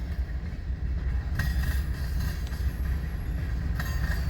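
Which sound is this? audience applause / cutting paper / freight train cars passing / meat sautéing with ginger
freight train cars passing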